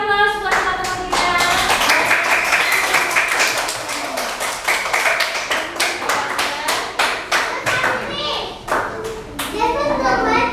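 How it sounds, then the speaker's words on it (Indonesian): A class of children in a classroom applauding, uneven rapid hand clapping that swells and fades in bursts over ten seconds, mixed with children's voices and an adult speaking. "Yuk kita kasih aplaus buat teman-teman kita."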